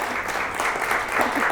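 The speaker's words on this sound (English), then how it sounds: "So a round of applause for her, please." Brief, steady applause from an audience at a senior honors academy presentation, an even wash of clapping at moderate volume.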